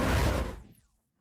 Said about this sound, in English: Now, this is the whooshes in Impact Sounds 2.